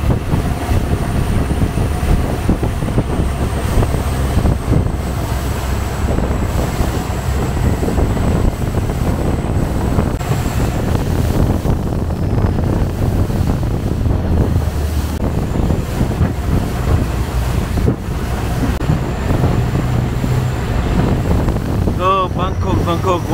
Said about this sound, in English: I don't think this boat is designed to do such a speed.